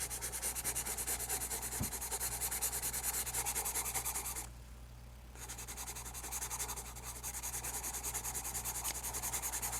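Extra black graphite pencil shading on paper, a continuous close rhythmic rasping stroke that pauses briefly midway, then resumes steadily, with no voices.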